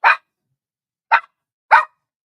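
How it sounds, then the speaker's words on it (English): Sharp, close barks ring out three times with gaps between them, loud and isolated against silence, from two dogs. "these two dogs are barking up a storm"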